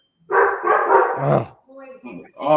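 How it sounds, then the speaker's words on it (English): A dog barks in a quick burst of several sharp woofs, close and loud, followed by a couple of shorter yips, in an indoor home setting. "Their dogs are barking."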